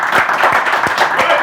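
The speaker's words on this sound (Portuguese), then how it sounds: "eu vou pedir, por favor, as pessoas que aplaudam o Vaguinho" A small audience claps for a guest on a Brazilian talk show, producing a short burst of uneven, fairly close hand claps with a few distinct louder slaps.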